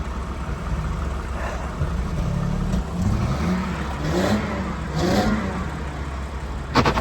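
Nissan Skyline R32 that sat unmoved for 15 years in a bush, its engine running outdoors with a steady mid-pitched drone broken by a few short revving swells.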